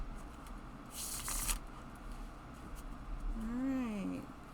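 Science fiction magazine tarot cards being shuffled nearby, a dense papery riffle burst in the middle, followed by a brief rising cat-like meow toward the end.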